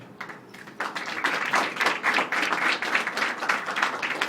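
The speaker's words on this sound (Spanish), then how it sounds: "Con fuertes palmas al doctor Ulises Humala." An audience applauds a professor, Dr. Ulises Humala, at an academic event on capitalism in the 21st century; scattered claps start, then swell into steady, moderately distant applause that continues to the end.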